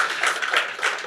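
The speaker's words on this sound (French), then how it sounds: "Oui, ça prend un applaudissement." Guests at the inaugural evening of the Afromusée applaud in a short, loud burst of close, dense clapping that stays steady throughout.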